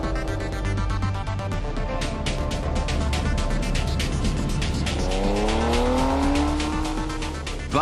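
A Ferrari F599 is driven hard across smooth salt flats, its engine loud and rising through the gears with sharp, rapid pulses and climbing revs, close up and continuous.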